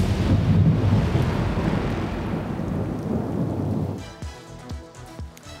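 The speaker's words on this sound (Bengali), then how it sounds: "প্রবল বৃষ্টি উত্তরবঙ্গে," Heavy rain pours down in North Bengal, a dense roar that slowly fades and then gives way to several deep, rumbling thunder thuds near the end.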